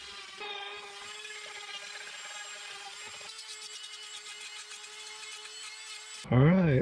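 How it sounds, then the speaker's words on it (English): A power drill boring drainage holes in driftwood whines steadily at one pitch, pausing briefly midway before spinning up again, followed by a sudden louder clatter at the end. "Just got to drill a couple drainage holes"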